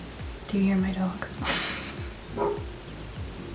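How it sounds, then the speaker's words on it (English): A pet dog barks a few times indoors at a moderate distance, short yips scattered under someone talking quietly during a makeup tutorial. "Do you hear my dog?"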